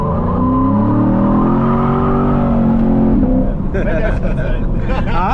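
Lexus RC F engine revving hard while drifting, a loud sustained roar with rising and falling pitch that turns rougher and noisier near the end, likely from tire scrub, with faint voices underneath.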